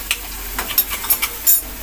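Masala paste ground in a mixer sizzles in a pan over turmeric while being stirred for masala dosa; short, close scraping stirs punctuate a constant frying hiss.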